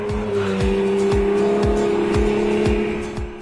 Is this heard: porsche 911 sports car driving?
yes